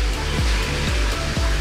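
Water gushes steadily while a koi pond filter is backwashed by hand with pond water, a continuous close splashing rush broken by a rhythmic pulse about once per second, with no talking.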